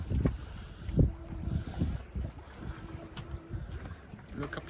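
A sailboat under mainsail alone in about nine knots of wind off Greece, moving at close to four knots: low irregular rumbles and knocks of wind, water and hull with gusty buffeting, fairly quiet and close, with no talk.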